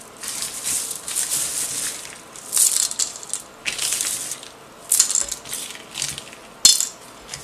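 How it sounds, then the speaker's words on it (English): Hydroton clay pebbles poured into orchid potting mix, giving bursts of crunchy, clattering rattles as the hard pellets tumble and settle, several pours with short pauses between, close and clear without speech. "I'm going to put this hydroton into my mix to add some aeration."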